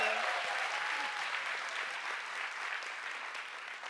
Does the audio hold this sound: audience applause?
yes